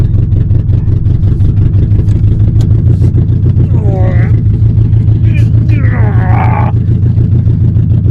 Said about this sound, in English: I'm having to record this with the window down because there's no exhaust on this car. It's just a straight header